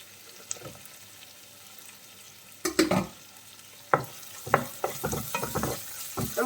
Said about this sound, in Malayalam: ചെറിയ ഉള്ളിയും ചേർത്തൊന്ന് വഴറ്റിയതിന് ശേഷം ഇനി നമുക്ക് പച്ചമുളക് ഇട്ട് കൊടുക്കാം.